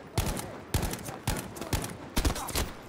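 Gunfire in the video game Battlefield V, several loud shots and short bursts in an uneven rhythm over a few seconds, close and punchy.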